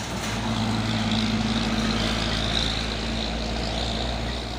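Three Fuso dump trucks grinding uphill on the Bukit Kodok climb in the morning, a continuous loud low engine drone with steady humming tones, no voices.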